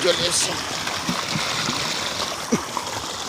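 Irrigation water rushing in a steady, noisy flow into an apple jujube orchard in Bengal, a continuous close hiss with a few gurgles and small splashes and no breaks.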